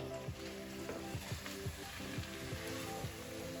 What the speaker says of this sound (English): I'm stirring it all together